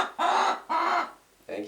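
Chickens near a woodpile give two drawn-out squawking calls close by, then a shorter one, with quiet gaps between them.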